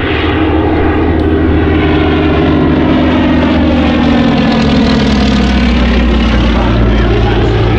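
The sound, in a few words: propeller aircraft landing at an air show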